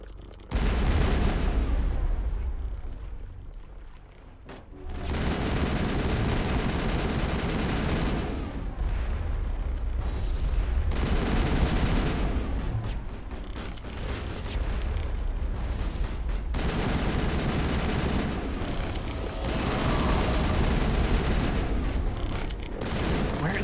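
Sustained bursts of gunfire in the sci-fi shooter Mass Effect, loud and dense, stretching over several seconds with brief gaps between volleys.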